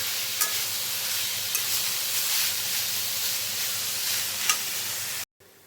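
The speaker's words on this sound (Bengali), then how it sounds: "এবার এটাকে আমি প্রথমে ভেজে নিচ্ছি" Pieces of papaya frying with salt and turmeric hiss in a steady, dense sizzle with a few small pops, close and fairly loud before it cuts off abruptly.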